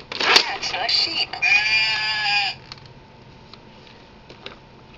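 A children's electronic toy gives a loud, wavering sheep bleat lasting about two seconds, after which the room falls to near silence.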